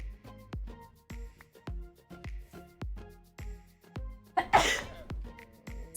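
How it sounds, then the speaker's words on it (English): A single sharp sneeze bursts out near the end, standing clear over steady rhythmic thumping background music from a Minecraft session. "Been sneezing a lot lately."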